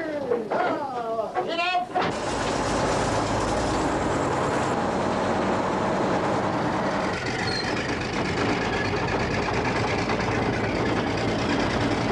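A tank engine starts up after a brief spoken order, then breaks into a loud, sustained, heavy mechanical rumble that fills the rest of the clip.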